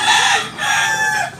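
A two-year-old White League gamefowl rooster crows nearby in two loud, drawn-out calls with a brief break between them, alone without talk.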